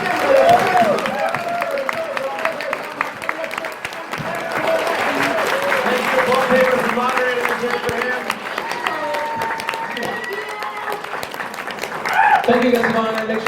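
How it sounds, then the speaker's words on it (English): Sustained clapping from a convention panel audience fills the space, steady throughout with a brief swell near the end, while a voice speaks over it. "Let's have a huge round of applause for our wonderful guest of honor"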